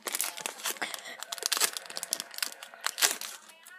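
A Pokemon XY Flashfire card pack is torn open by hand, giving a close, busy run of crinkling foil and sharp tearing bursts.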